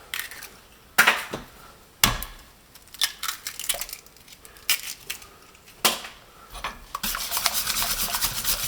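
Eggs being beaten vigorously in a bowl for bread rolls: irregular bursts of clattering, scraping whisk strokes against the bowl, separated by brief pauses and ending in a sustained run of rapid beating.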